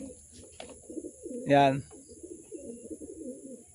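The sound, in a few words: racing pigeons cooing as they come in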